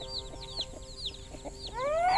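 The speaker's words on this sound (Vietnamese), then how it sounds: "Kìa thấy kìa, cái gà chíp chíp kìa, khỏe lắm." Chickens cluck in a garden in quick, close bursts, with a louder rising call at the end and a soft background hum.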